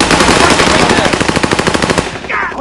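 Rapid automatic gunfire rattles loudly and close in a PS versus PC multiplayer shooter match, a dense burst of evenly spaced shots lasting about two seconds before cutting off.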